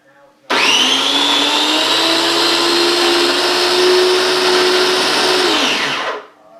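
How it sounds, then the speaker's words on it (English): A Kalorik Baby Gourmet baby food maker runs on its puree setting, its blender motor a loud, steady whir lasting about six seconds before spinning down. "we're going to hit the puree function"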